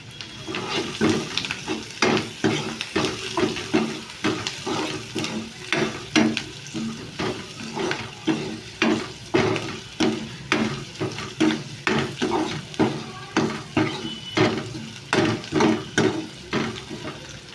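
Onions fry in oil with a pinch of salt in a pan, a steady close sizzle broken by a regular rhythm of stirring scrapes throughout, with no talking.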